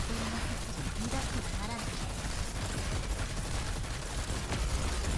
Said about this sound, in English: And then we got one more cannon. Fire! All cannons!